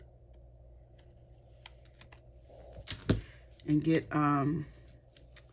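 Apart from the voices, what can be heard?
trimming cardstock paper for a card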